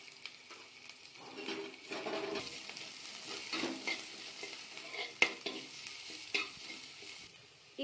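Onion, crushed garlic and turmeric fry and get stirred in a pan for a plantain poriyal. A quiet, steady sizzle sits under repeated scraping and stirring strokes, with an occasional sharp clink of the utensil against the pan.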